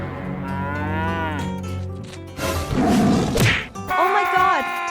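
A cartoon cow gives a loud, sustained moo, followed by a sharp whoosh and whack effect and then another bellowing call.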